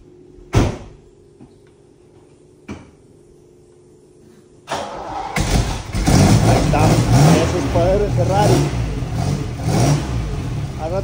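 A 1969 Ferrari: two sharp clunks, like doors or a hood closing, then the engine catches and settles into a loud, rough idle with rising revs that stays up to the end.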